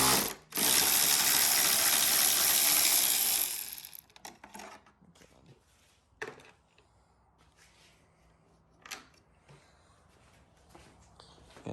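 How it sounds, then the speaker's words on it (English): A ratchet spins loud and close for about three seconds while removing fairing bolts on a 2017 Yamaha R6 motorcycle, followed by scattered clicks and taps of handling bolts and tools. "Gonna take the bolts out."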